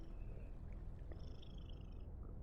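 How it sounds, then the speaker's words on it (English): A ghost cat in a video game purrs loudly and steadily as a low rumbling drone, with a thin tonal whine and a few soft clicks above it and no speech. "This ghost cat is so loud."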